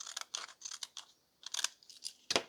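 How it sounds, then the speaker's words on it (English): Paper text being snipped out with scissors: a run of short crisp cuts, close and moderately loud, with a brief pause before a final sharper snip. "Just going to cut it out"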